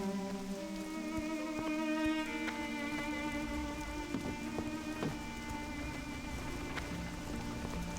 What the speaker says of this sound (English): I know it's raining right now